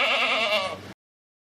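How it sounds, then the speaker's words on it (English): A goat bleats once, a short, wavering, nasal cry heard close and fairly loud before it cuts off abruptly, with no talk. "Goat"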